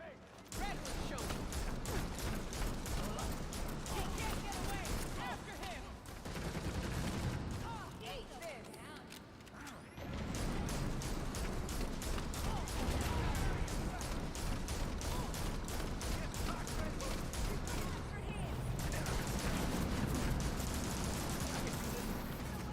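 Dense, rapid gunfire from the Gotham Knights video game, with bursts of repeated shots running almost continuously, a brief lull midway, and voices talking underneath.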